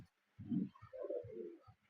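A Kaldoma pigeon coos close by in a loft, a short series of low, rolling throaty pulses, soft and quiet overall.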